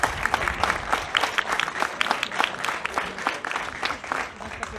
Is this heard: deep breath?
no